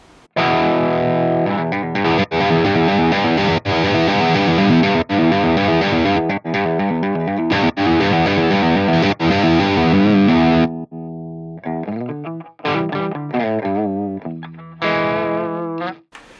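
High-gain distorted electric guitar played through a Fractal AX8 effects unit, loud sustained chords and riffs that switch between scenes with no gap, the tone shifting partway through.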